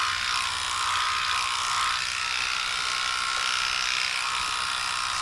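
Electric dog clippers fitted with a 4F blade run steadily on a Cavapoo during grooming, a continuous close buzzing hum with no talk.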